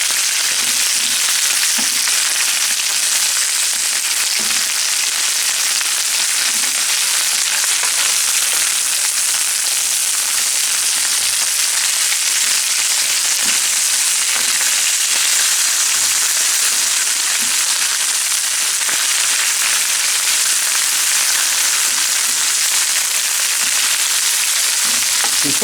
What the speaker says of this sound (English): And then we're going to sort of push it around the frying pan for a while.